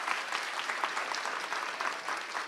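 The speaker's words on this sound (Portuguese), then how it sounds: "Uma salva de palmas para as cotas." Steady applause from an audience at a talk on empathetic leadership, a dense, even patter of many hands clapping at moderate distance, sustained without breaks and with no speech over it.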